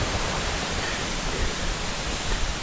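Beaver Meadow Falls heard from a nearby trail, a steady broadband roar of falling water, constant and fairly close with no voices.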